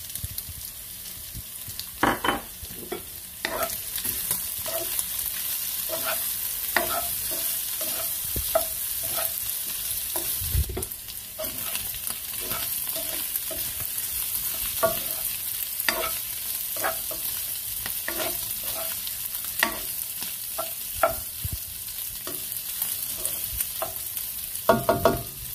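Pork adobo with lemon sizzles steadily in a pan while chili flakes go in and a utensil scrapes and stirs, giving repeated close clinks and scrapes over a constant frying hiss, with no talking.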